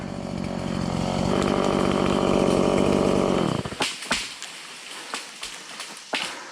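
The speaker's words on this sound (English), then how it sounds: "That is an effective hinge cut." A chainsaw making a hinge cut on a tree roars loud and steady for a few seconds, then cuts out, followed by a scatter of sharp cracks and snaps as the wood gives way.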